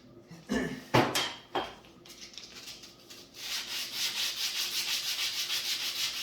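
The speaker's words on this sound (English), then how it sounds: "So I'm going to use sandpaper." Knife scales get sanded by hand on sandpaper, a few knocks and scrapes first, then a close, rhythmic back-and-forth rasp of strokes repeating evenly to the end.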